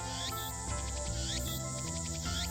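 Cicadas chirp from a few trees by a small shrine in the Steins;Gate video game. The shrill trills pulse steadily over layered game music and are heard alone, with no voices.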